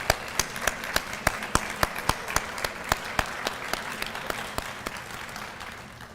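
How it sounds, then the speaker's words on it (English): An audience at a Black Solidarity Day event claps in a steady round of applause, with a few sharp, rhythmic claps standing out at first before the sound gradually thins and fades. "stand so we can give you a round of applause."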